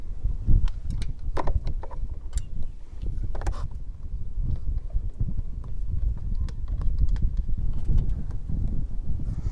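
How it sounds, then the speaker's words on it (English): A hex bolt is loosened with a 10 mm wrench near the front wheel of a KTM 1290 Super Adventure motorcycle during crash-bar fitting, giving sharp metallic clicks and knocks scattered over a low background rumble. "You need a 10 millimeter wrench, and you will be able to reach in by turning the front wheel right and left, and you can start removing this bolt here."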